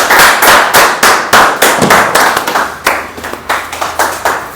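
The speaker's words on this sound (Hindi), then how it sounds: "तो जोरदार तालियों के साथ उनका स्वागत करता हूं" An audience at a seminar in Sunder Nagar, Mandi, Himachal Pradesh claps loudly, with a dense, uneven run of sharp hand claps that keeps a steady pace.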